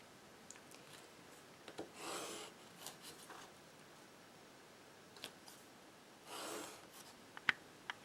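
Pencil drawing straight lines between marked points on a card, faint scratchy rasping strokes in a few bursts of about half a second, with small ticks and taps between them in a quiet room.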